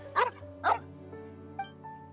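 A dog in the video game Genshin Impact gives two sharp, close barks in quick succession over soft sustained game music, with no voices.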